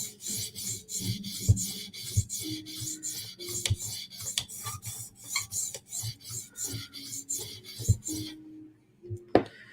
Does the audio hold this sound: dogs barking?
no